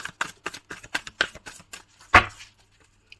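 Tarot cards flutter and slap in a quick run of shuffling riffles, followed by a single sharper snap as a card is drawn, then near quiet.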